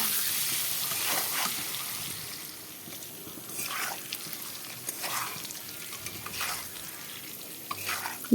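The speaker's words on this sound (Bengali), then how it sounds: "ডিমগুলো এখন ভেজে নেই ডিমগুলোকে লাল করে ভেজে নেব" Eggs seasoned with turmeric and salt fry in a pan for an egg curry, a soft, steady sizzle with intermittent scraping stir strokes at moderate distance, no talking.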